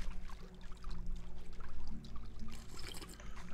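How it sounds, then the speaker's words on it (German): A small stream in Medieval Dynasty, clear and cold, trickling and babbling steadily close by, with soft outdoor game ambience around it. "der kleine Bach hat klares, kaltes und frisches Wasser"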